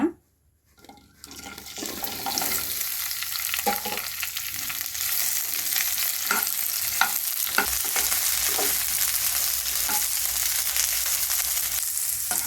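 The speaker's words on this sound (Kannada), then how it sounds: "ಇವಾಗ ಬೆಂಡೆಕಾಯಿನ ಹುರ್ಕೊಳ್ಳೋಣ" Okra sizzles and crackles steadily in hot oil in a pan, a continuous dense frying hiss with occasional stirring clicks after a quiet first second.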